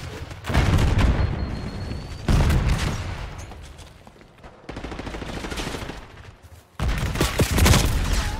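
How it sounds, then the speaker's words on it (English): Gunfire in the video game Call of Duty Black Ops 6 comes in sustained, heavy volleys, loud and close, with some booming shots, broken by short lulls. "I'm getting shot from the left, bro."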